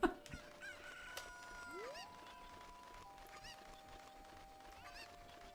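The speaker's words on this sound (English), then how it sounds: "here is our final chicken" In Ocarina of Time, a cucco chicken crows and clucks, with several rising calls over a quiet, faint background of game music.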